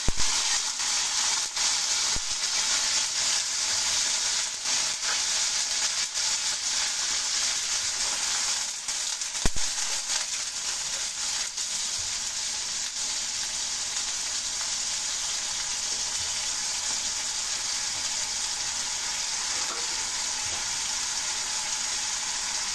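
Ginger, garlic and onion paste sizzling in hot oil with fried onions while cooking a magur fish curry, a steady loud frying hiss that lasts throughout with faint stirring clicks.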